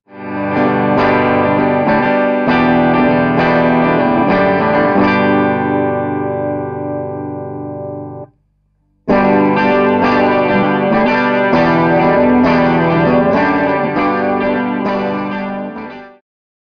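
An electric guitar runs through effects for tone, with thick distorted, chorused chords ringing out in two long passages split by a brief silence, and each passage ends in a fading sustain.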